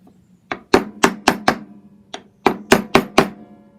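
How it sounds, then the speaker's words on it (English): Sharp metallic hammer taps as a new bearing is driven into its race on a Hitachi F1000A jointer, two quick runs of four and five blows, close and loud, with brief silence between the groups. "You just tap it in with your hammer."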